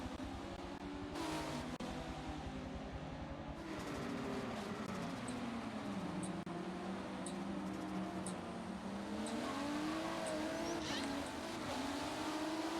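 Racing cars from a video game lapping Brands Hatch, engines droning steadily with pitch sweeps as they accelerate and shift, a continuous loud mechanical hum throughout with no clear pauses.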